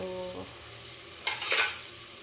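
Tomato dropped into a hot pan of mung bean base sets off a loud burst of sizzling and frying, about a second long, after a quiet stretch with a faint tonal hum.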